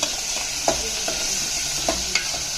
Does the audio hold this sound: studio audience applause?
no